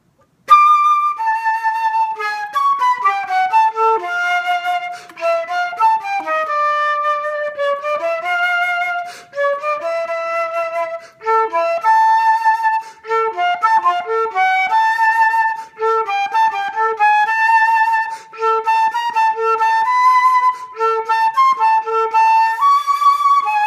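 Solo flute plays the trombone solo from Mahler's Third Symphony, transposed down a half step. Clear sustained phrases are broken by short pauses for breath, with nothing else sounding.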